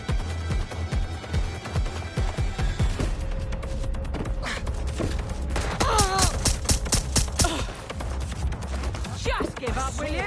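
Gunfire in Red Dead Redemption, rapid bursts of shots and loud cracks layered over game music and effects, with a voice briefly heard among the firing.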